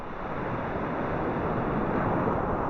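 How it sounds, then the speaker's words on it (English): Small ocean waves wash steadily onto the sand at Whitsands Bay beach, a continuous broad surf hiss with wind, no voices over it. "We got a little bit of waves here."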